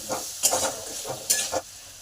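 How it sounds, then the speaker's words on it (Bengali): Potatoes with salt and turmeric are stirred in a hot pan. A quiet sizzle runs underneath while a spatula scrapes in a few quick, close strokes, two of them sharper and louder, with no talking. "নুন আর হলুদটাকে আলুতে ভালো করে মিশিয়ে দিলাম"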